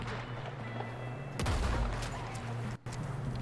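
Gunfire in the video game Red Dead Redemption 2: a sharp burst of shots over a steady, droning in-game background, followed by a brief cut to silence and continuing ambient noise.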